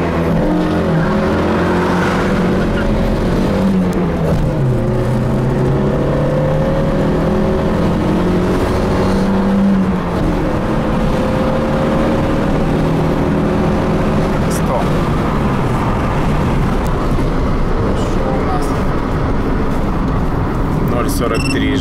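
A VAZ Lada Kalina 1.6 8-valve hatchback accelerates hard from a standstill to 100 km/h, engine revving up through several gears with audible drops at each shift and brief tire squeal, loud and close from inside, with voices talking over it.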